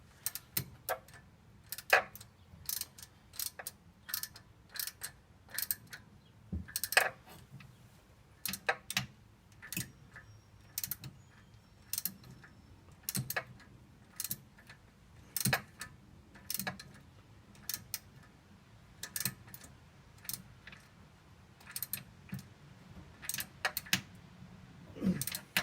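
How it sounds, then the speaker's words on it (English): A ratchet tightens a heater hose clamp on a 1947 GMC truck near the radiator, giving sharp metallic clicks in short bursts that repeat steadily for about twenty-five seconds over a quiet background. "So I got the ratchet handy to tighten it down."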